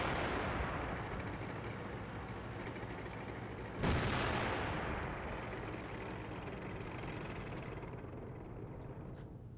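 Incoming artillery shells in an online tank battle game, a single loud blast with a long rumbling decay standing out from a constant low roar of battle noise.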